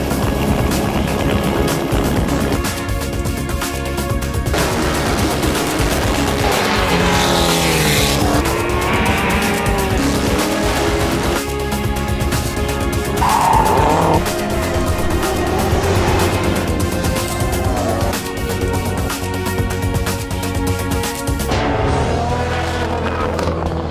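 Race cars at the 2010 Pikes Peak International Hill Climb, a mountain motorsport event, roar continuously with loud revving engines, gear-change swells and occasional tire squeal, sustained and close throughout.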